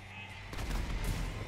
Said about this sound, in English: Their explosions are nuts.